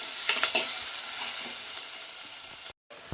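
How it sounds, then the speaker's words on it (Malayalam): Garlic, ginger, green chili and onion sauté in a pan, a bright sizzle with a few stirring scrapes early on, then a short silent gap before the end. "വെളുത്തുള്ളി, ഇഞ്ചി, പച്ചമുളകും കൂടി ഇട്ട് കൊടുത്ത് നന്നായിട്ടൊരു ബ്രൗൺ കളർ ആവുന്ന വരെ നമുക്ക് വഴറ്റി കൊടുക്കാം."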